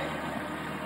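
A car engine runs with a steady, dense, close hum and no other sounds, heard only briefly.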